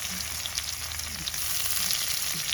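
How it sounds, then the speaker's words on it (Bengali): Sliced onion dropped into hot oil in a village kitchen, a steady bright sizzle and crackle running without pause, close and fairly loud, with no voices. "এবার আমরা পেঁয়াজটা দিয়ে দেবো। তেলটা গরম হয়ে গেছে যথেষ্ট, ছ্যাপ করে উঠলো"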